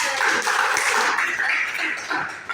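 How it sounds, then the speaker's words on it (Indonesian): A classroom group applauds for a couple of seconds, a steady wash of clapping hands at moderate loudness with faint voices mixed in. "tepuk tangan"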